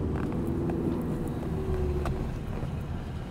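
A car engine accelerates during a driving lesson on narrow streets, heard from inside the car as a loud, steady low rumble with some wind noise and no talking.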